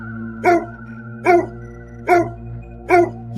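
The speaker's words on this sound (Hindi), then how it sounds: "गांव में जाकर खाना मांगने के लिए भौंकने लगता है।" A dog gives four sharp, evenly spaced barks, loud and close, over a steady musical drone.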